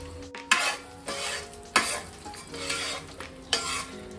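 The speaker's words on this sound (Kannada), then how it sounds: "ಕಡಲೆ ಬೀಜ ಸ್ವಲ್ಪ ಗೋಲ್ಡನ್ ಬ್ರೌನ್ ಆಗೋ ತನಕ ಫ್ರೈ ಆಗಬೇಕು" Peanuts frying in oil with cumin and curry leaves for capsicum rice, a soft sizzle under repeated scraping of a spoon against the pan, about four strokes at an uneven pace, close up with no talking.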